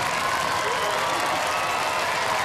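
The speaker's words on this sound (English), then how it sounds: "Cue the applause." Studio audience applause and cheering for the new UK champions at a Robot Wars robot combat show, a steady, dense wash of clapping from a crowd filling the whole stretch without break.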